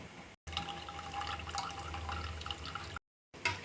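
Ground coconut milk is squeezed by hand into a bowl, a continuous wet trickling and dripping of liquid that holds steady for a few seconds, broken by brief dead gaps.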